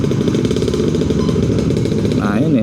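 A two-stroke motorcycle engine in congested rush-hour traffic, its steady buzzing drone continuous and fairly loud throughout, blended with other engines nearby.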